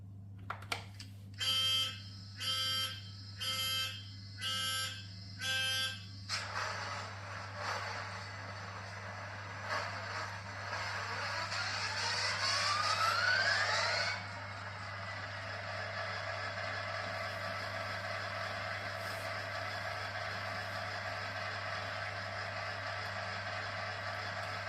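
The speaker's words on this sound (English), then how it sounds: "As you can hear, absolutely lovely start-up function." A Revolution Trains Class 66 model locomotive's DCC sound decoder starts up with a string of evenly spaced electronic beeps, then a rising whine as the diesel engine spins up and settles into a quiet, steady idle hum, with no voices.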